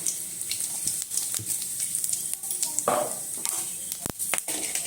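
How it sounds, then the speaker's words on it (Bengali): Whole spices (two bay leaves, three cloves, cumin seeds) frying in hot oil for tempering a light chicken curry, giving a steady close crackling sizzle with scattered sharp pops and a few utensil clinks. "ফোড়নটা তিরিশ সেকেন্ড মতো ভেজে নিতে হবে"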